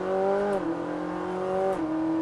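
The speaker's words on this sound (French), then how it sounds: "Allez, passe ta vitesse, accélère très fort." A Ferrari 458 Italia V8 pulls hard under full throttle on a downhill stretch. Its steady, loud, buzzing engine note drops in pitch twice as it shifts up through the gears, with no talk over it.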